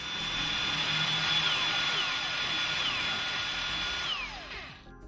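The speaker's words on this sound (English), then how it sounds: "You're now ready to drill small pilot holes." A power drill boring small pilot holes into the underside of a work desk, a steady high whine running nearly five seconds with pitch shifts as the bit bites, then cutting off.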